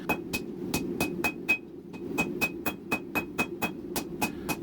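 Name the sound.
hammer forging the tang of a hidden-tang knife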